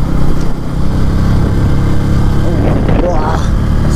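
A 2025 Bajaj Pulsar N160 motorcycle engine runs close and loud for a few seconds, its rev rising briefly near the end, with a voice speaking over it.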